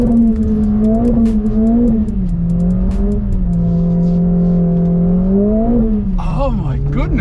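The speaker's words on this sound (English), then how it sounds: "We're about to take this AMG A45S out on the skid pan, and I'm gonna try and drift it" A Mercedes-AMG A45 S is driven sideways around a skid pan, its engine droning loud and close with rising and falling revs as the throttle is worked, and tyre squeal creeps in toward the end.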